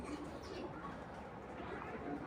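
Racing pigeons, a female among them, coo softly and steadily at close range against a constant low background hum, with no one talking.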